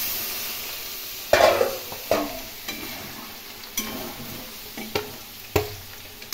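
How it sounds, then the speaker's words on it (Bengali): Masala with chili powder, garam masala and a little water is sautéed in a pan for a Bengali fish dish, producing a soft sizzle punctuated by several distinct spatula knocks and scrapes, close and without talk. "ভালো করে কষিয়ে নেব।"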